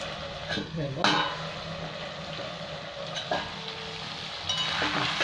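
Chicken cooking down with onions in a pan for a Bengali chicken curry, a continuous moderate sizzle with occasional scrapes and metallic clinks of stirring, fairly close and without speech.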